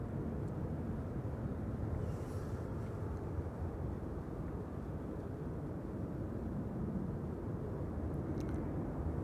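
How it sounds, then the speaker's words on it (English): Lufthansa Airbus A319 airliner at Amsterdam Schiphol Airport, a steady broadband jet roar holding at an even level throughout, with no voices over it. "There's our Lufthansa A319."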